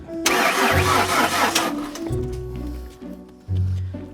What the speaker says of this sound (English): When you hear the starter stop, just hit the brakes.